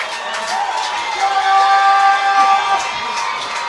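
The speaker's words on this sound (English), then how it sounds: "Bulldog crowd here trying to pick it up." Bulldogs home crowd at a high school football game cheers and shouts in a swelling roar, whoops rising over steady stadium noise with a public-address voice heard briefly.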